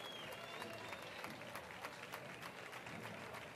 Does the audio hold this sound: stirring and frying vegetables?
no